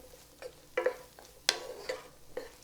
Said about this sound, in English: So let's stir this around and see how this is going.